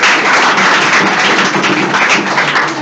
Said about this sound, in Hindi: बार तालियां हो जाए